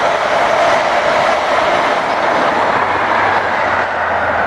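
A train rolls across Brunel's railway bridge at Bridgwater, a continuous broad rushing roar with faint rail rumble, steady and fairly loud throughout.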